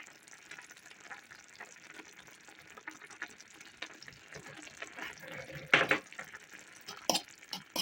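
Salt is stirred into vegetable caviar cooking in a pan: a faint, steady sizzle with soft stirring scrapes, then a few louder clinks and scrapes near the end, close but quiet, with no speech.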